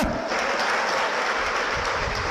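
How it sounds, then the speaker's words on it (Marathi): Applause from girls in the audience at a comedy speech, a steady dense clatter of many clapping hands that fills the whole moment at close range with no talk over it. "पुन्हा एकदा जोरदार टाळ्या द्या तुमच्याच"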